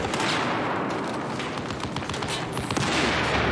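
Dense bursts of gunfire fill a first-person shooter match from the DICE game series, rapid overlapping shots and cracks rattling continuously, loud and close.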